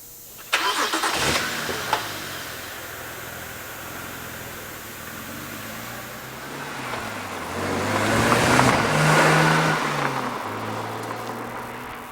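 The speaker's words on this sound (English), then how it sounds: "You don't even hit the gas and the car's got enough torque to pull itself out" A 2007 BMW Z4 3.0si coupe starts and idles with a deep rumble, then swells in a low growl as the car slowly rolls away under torque alone without throttle.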